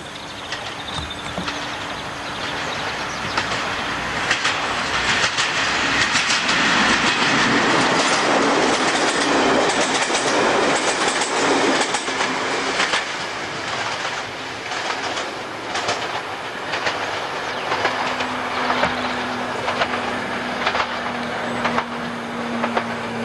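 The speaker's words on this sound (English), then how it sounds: "here along comes the train forming the 953 from Romford to Upminster" A passenger train on the Romford to Upminster line rolls past close by, a loud, steady rumble with rhythmic clickety-clack from the wheels over rail joints for over twenty seconds, with no voices.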